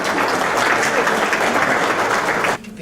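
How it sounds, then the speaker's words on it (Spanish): An audience at an evening seminar breaks into loud, dense applause that carries on steadily, then cuts off sharply just before the end. "Lo recibimos con un fuerte aplauso"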